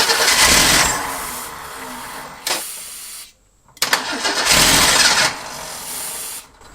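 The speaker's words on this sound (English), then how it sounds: "As soon as I let off the key for cranking, the engine shuts off." A Ford Durango engine, unused for nine years, cranks and runs loudly, cuts out into near silence when the key is released, then cranks and roars again before dropping off abruptly.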